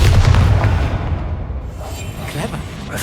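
A Confringo fire spell explodes in Hogwarts Legacy: a deep booming blast opens loud, then rumbles and fades over a few seconds with scattered crackles.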